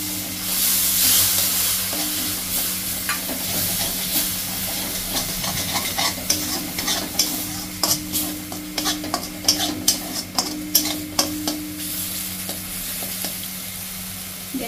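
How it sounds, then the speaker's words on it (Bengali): Ground tomato paste hitting a hot pan while cooking koi fish, giving a continuous close sizzle and steamy hiss, with a run of quick spatula taps and scrapes building toward the end, no voices. "এতে দিয়ে দেব বেটে রাখা টমেটোটা।"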